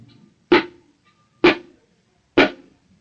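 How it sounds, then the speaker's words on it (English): Three sharp, dry tabla strokes of Ra/Ta, the index finger alone striking the center of the shahi, spaced about a second apart, close and clean with no ringing sustain. "That is, index finger alone will be hitting at the center of Shahi,"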